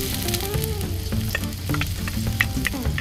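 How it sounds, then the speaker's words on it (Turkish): Onions frying in olive oil in a pan, a steady loud sizzle with occasional stirring scrapes and pops, close up and continuous with no talking. "Soğanları pişiriyoruz."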